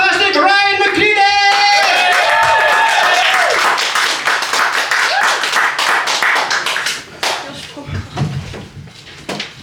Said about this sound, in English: let's see how good you are at clapping and cheering.